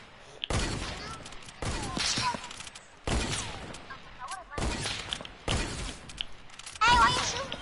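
Bursts of gunfire, probably from a video game, come in several loud volleys of rapid shots separated by short pauses, with voices talking over and between them.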